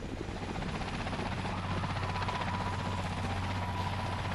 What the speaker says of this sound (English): fuck is that noise? Helicopter.